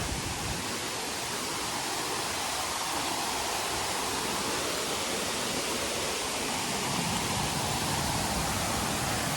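A constant roar of falling water from Tan Rua Waterfall on Koh Samui, broad and steady, with no pauses or voices over it.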